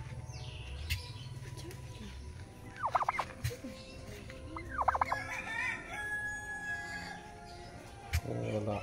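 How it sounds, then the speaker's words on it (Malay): A turkey at a crocodile park in Kuala Baram, Miri, lets out two short, rapid gobbling bursts a couple of seconds apart, fairly faint over a noisy outdoor background with scattered bird calls and distant voices. "Ini ayam Belanda guys."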